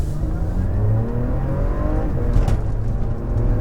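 A 2015 Porsche Macan S with PDK gearbox pulling hard in Sport Plus mode, engine drone climbing steadily in pitch from inside the cabin, loud and continuous with a brief shift near the middle.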